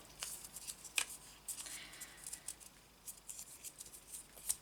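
Small paper slips being folded up for a junk journal draw, with soft close crinkles and a few crisp creasing snaps scattered irregularly, no talk.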